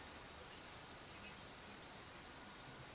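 Cicadas buzz in a steady, high-pitched drone that continues unbroken, faint and distant, with no voices.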